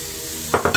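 Food browning in a frying pan for loco moco with peppercorn, a steady sizzle with a few quick stirring scrapes at the end.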